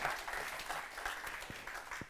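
An audience at a web development conference gives brief, faint applause.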